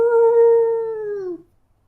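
A single long hooting howl with a clear tone that slides slightly downward sounds close and loud for over a second, then cuts off into silence, used as a night owl effect in a tabletop game.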